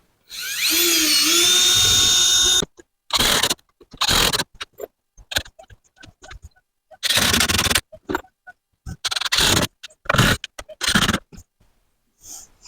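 A power drill whines loudly through wood in a long burst, then several shorter on-off bursts with quiet gaps between, while holes are bored for a backyard chicken tractor build.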